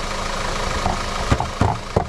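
Petrol engine of a 2014 Audi A4 idling steadily after a water pump replacement, a close, even hum with a few brief louder knocks or thumps near the end, no talking.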